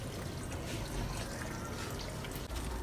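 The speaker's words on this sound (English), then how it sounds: "I ensure that I water the base of the plant or the soil." Water poured from a hose or can onto the soil at the base of garden plants in the evening, a steady close splashing trickle running without pause.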